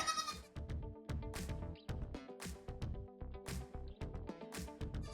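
Several goats bleat repeatedly in a crowded goat barn, overlapping calls close by and fairly loud, in a busy continuous chorus with no talking.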